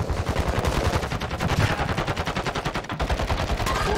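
Rapid automatic gunfire in a Warzone 2 multiplayer lobby, a dense continuous stream of loud shots and bursts running throughout with no talking.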